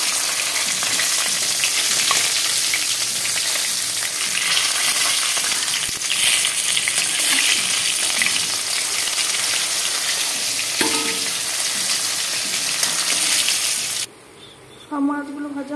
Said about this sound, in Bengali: আর এখানে আমার মাছগুলো ভাজা হয়ে গেছে